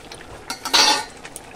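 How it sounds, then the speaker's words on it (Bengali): A spoon stirs tomatoes simmering in a pan on the stove, giving a short burst of scraping and clinking against the pan, fairly close, with no voice. "ভালো করে একটু সিদ্ধ করে নিতে হবে, এভাবে ঘাটতে হবে, তাহলে টমেটোগুলো গলে যাবে।"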